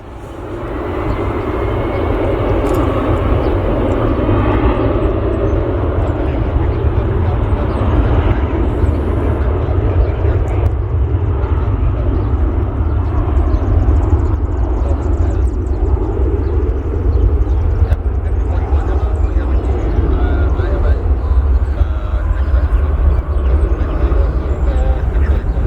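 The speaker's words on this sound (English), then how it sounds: "United Flight 356 heading to the West Coast, San Francisco." A United airliner jet takes off at Cleveland on a flight to San Francisco, its engines building quickly to a loud, sustained low roar that stays heavy and steady for the whole stretch.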